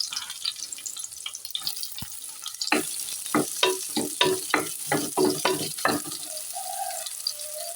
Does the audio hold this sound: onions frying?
yes